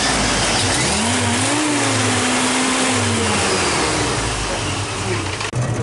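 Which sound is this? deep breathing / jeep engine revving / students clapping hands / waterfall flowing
jeep engine revving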